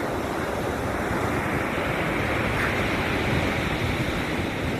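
Ocean waves wash onto a beach in a steady, full roar of surf, continuous and fairly loud with some wind noise, with no voices.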